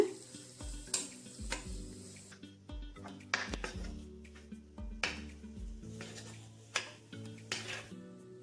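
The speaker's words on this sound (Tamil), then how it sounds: "இப்போ இதெல்லாம் சேர்த்து நல்லா மிக்ஸ் பண்ணிருங்க." Cut dates are stirred with spice powder in hot oil for a pickle, the spoon scraping and clinking against the pan in irregular strokes over a soft sizzle, close and fairly quiet with no talk.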